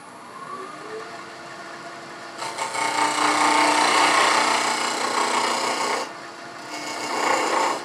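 Wood lathe rough turning a blank for a Christmas tree ornament, a quiet motor hum followed by loud scraping and rasping as the gouge bites, easing off briefly and then returning.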